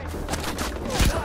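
Pistol gunfire in the video game Far Cry 4, a dense burst of sharp reports with one heavier close shot near the end, over a continuous noisy game background.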